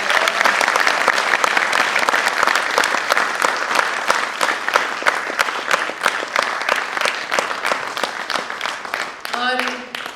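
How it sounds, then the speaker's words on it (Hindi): Dense, sustained audience applause after a patriotic stage play about the India–China war and Major Shaitan Singh, with steady close clapping throughout and a brief voice near the end. "हमारे लिए एक बार और जोरदार तालियां।"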